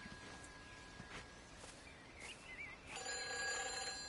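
Telephone ringing inside the video game Everybody's Gone to the Rapture, a faint electronic ring tone rising out of quiet ambience with soft crickets or birds in the background.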